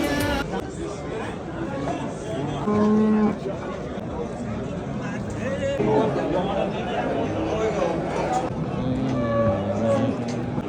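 Sheep bleat several times in drawn-out, mid-pitched calls over steady crowd chatter at a busy outdoor spot where people eat shashlik.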